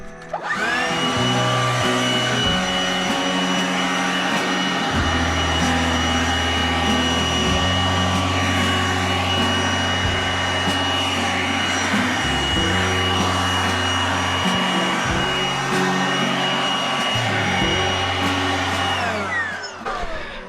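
A handheld air blower roars steadily and loudly while drying a Corvette, a continuous rushing whine with shifting low hum that runs the whole time without talk.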